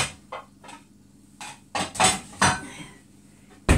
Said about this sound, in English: What I'm going to do is I'm going to get a bowl